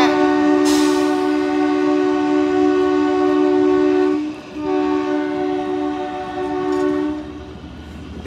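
The Kalka–Shimla toy train sounds its horn in two long, loud, steady blasts close by, with a brief gap between them as the train pulls away.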